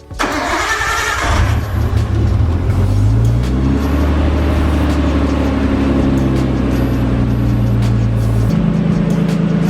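A Nissan Skyline fitted with a Go Fast Bits Respons blow-off valve cranks and fires up, then settles into a loud, steady idle with a deep, even rumble that continues unbroken to the end.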